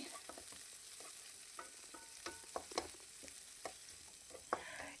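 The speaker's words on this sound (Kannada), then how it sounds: "ಈಗ ಇದಕ್ಕೆ ನಾನು ಈರುಳ್ಳಿನ ಕಟ್ ಮಾಡಿ ಹಾಕ್ಕೊಳ್ತಾ ಇದ್ದೀನಿ. ಇದರ ಜೊತೆಗೆ ಒಂದು ಸ್ವಲ್ಪ ಕರಿಬೇವಿನ ಸೊಪ್ಪು ಹಾಕ್ಕೊಂಡಿದ್ದೀನಿ. ಈಗ ಇದನ್ನು ಚೆನ್ನಾಗಿ ನಾನು ಫ್ರೈ ಮಾಡ್ಕೊಳ್ತೀನಿ" Chopped onion and curry leaves fry steadily in hot oil for an Udupi-style mutton gassi, a constant close sizzle broken by scattered spatula scrapes and stirs, no voices.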